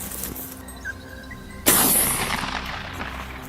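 A single loud hunting-rifle shot is fired at a wild boar in thick woodland, a sharp close crack with a long rolling echo trailing off through the trees, after quiet outdoor ambience.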